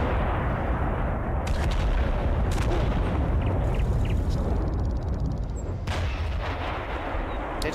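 Heavy artillery fire in the video game Total Conflict Resistance, a dense, continuous barrage of booming blasts and gunfire that stays loud and close throughout, with sharper cracks on top.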